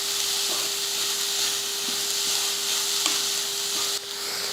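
Grated carrot and coconut sauté in a pan with a steady, close sizzling hiss. A constant tonal hum runs underneath, and a few faint stirring taps are heard. The sound drops slightly near the end.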